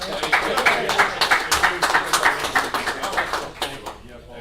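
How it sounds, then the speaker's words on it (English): A crowd at a township committee work session claps and applauds steadily for several seconds, dense and fairly close, then the clapping thins out and fades near the end. "let's give you guys a big round of applause"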